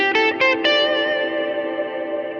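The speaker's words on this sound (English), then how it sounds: "The reverb is no longer getting in the way of my direct tone as much either," Electric guitar played through a Line 6 Helix with a dark, low-cut reverb: a few quick picked notes, then a sustained chord ringing out and slowly decaying under a smooth reverb tail, steady and close with no voices.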